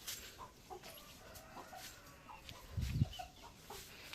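Chickens in a coop at an old house give a few soft, scattered clucks at a distance over a quiet background, with one slightly louder low cluck near the end.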